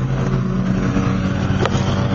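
A 1990 Chevy stepside pickup's engine runs at a steady idle, a continuous low rumble with a brief rising whoosh near the end, close by and without talk.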